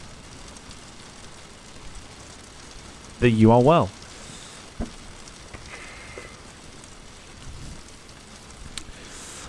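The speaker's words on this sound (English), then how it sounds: "The sound you can hear is rain on the sim, because we're at a very rainy Heathrow airport today" Rain at a rainy Heathrow airport in Microsoft Flight Simulator 2020 patters as a faint, steady hiss throughout, with a brief spoken phrase rising above it partway in.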